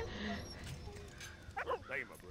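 A dog in the World War I video game Valiant Hearts gives short yips and whimpering barks amid game sounds and music, with a person talking over it.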